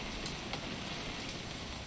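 Steady rain falls in What Remains of Edith Finch, a continuous even hiss of drops on surfaces that holds at a constant moderate level throughout, with no voices.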